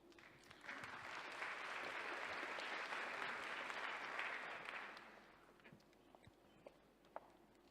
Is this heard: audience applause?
yes